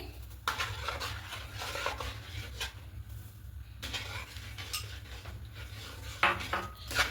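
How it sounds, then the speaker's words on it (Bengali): Semolina being stirred into hot water in a pot, clinking and scraping of utensil against metal with soft thick mixing sounds, close and continuous without speech. "এবার সবটা খুব ভালো করে মেশাবো এইভাবে মিশিয়ে নেবো"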